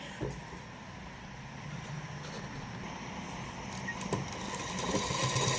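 A sewing machine running steadily while stitching a ponche (trouser hem), a continuous medium-paced mechanical whir with faint rhythmic ticking, fairly quiet and close, rising slightly toward the end.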